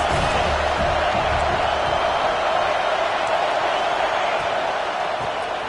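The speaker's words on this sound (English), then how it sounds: "This crowd trying to make life miserable for this offense." Stadium crowd noise in a college football video game, a dense, steady roar of fans filling the whole stretch at constant level with no clear individual cheers.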